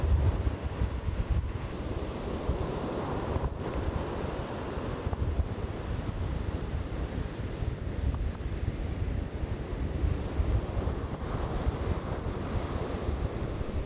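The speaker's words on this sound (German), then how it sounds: "Wahnsinn, die Kraft vom Wasser. Das Wasser schießt hoch" Rough Atlantic surf at Cape Cross, Namibia churns continuously, heavily buffeted by wind noise on the microphone, with no clear separate wave breaks standing out.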